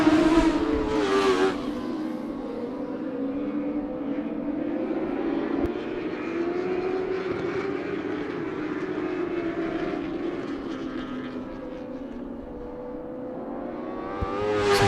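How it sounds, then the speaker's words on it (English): Dwarf race cars roar around the Havasu 95 Speedway in a 10-lap shootout, a steady loud blend of several engines droning and shifting pitch as the pack circles, with no talk over it. "Here come the McCatlin Electrical Dwarf cars."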